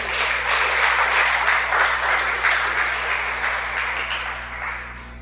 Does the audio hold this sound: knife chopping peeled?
no